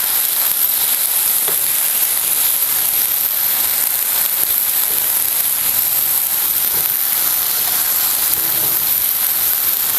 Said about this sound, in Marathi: ह्यामध्ये आपण इकडे हिरव्या मिरची, आलं लसूण वगैरे सगळं बारीक करून घेतलेलं आहे ते घालायचं आहे. आणि चांगलंसं आपल्याला हे परतून घ्यायचं